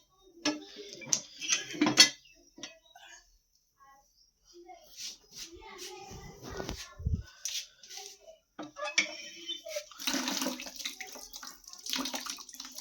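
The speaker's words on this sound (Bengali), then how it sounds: "এবার আমি বিরাসটা একটু জল পানি দিয়ে ধুয়ে নেব" A toothbrush is rinsed under a running tap, with intermittent splashing and water bursts mixed with small clinks, while a person talks over parts of it.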